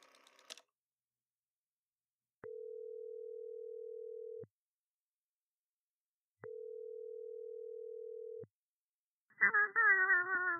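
Two long, steady telephone ringing tones sound a couple of seconds apart, separated by silence, before a voice starts speaking.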